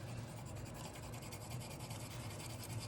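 A finger scrubs hard over pencil shading on paper in a close, continuous rubbing scratch that holds an even level, with no voices.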